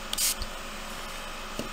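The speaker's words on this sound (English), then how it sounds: "This is just a spray bottle of water." A single short hiss of a spray bottle squirting plain water up close, followed by a quiet pause and a faint click.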